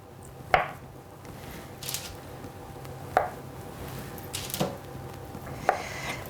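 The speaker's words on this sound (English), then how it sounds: "I'm just going to literally slice them into 1/2 centimetre slices." Knife slicing a log of cheese and fig dough into half-centimetre rounds on a board, four distinct chops spaced about a second or more apart, close and crisp with quiet pauses between.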